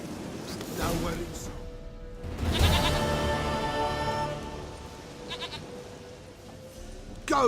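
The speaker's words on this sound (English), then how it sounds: "dearest, sweetest goat." A goat bleating in The Witcher 3, heard as a few wavering calls within game ambience, with a voice talking over parts of it.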